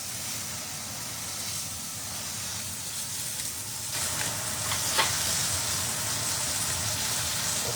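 Steak sizzles steadily in a hot pan in a home kitchen, a constant bright frying hiss that swells a little louder partway through, with a few sharper spits and pops.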